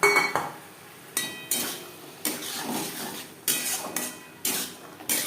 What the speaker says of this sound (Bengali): মশলার সাথে মটর বেশ ভালো করে মিক্স করে দেবো